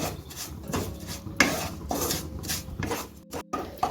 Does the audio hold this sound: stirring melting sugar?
yes